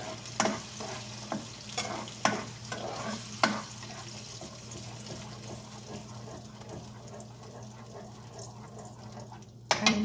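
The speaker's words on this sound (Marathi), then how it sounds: "छानपैकी त्याला असं सॉटे करून घ्यायचं तेलामध्ये" Masala paste for a kohlrabi curry sautés in oil with a soft background sizzle, broken by several sharp scraping knocks of a spoon stirring the pan early on.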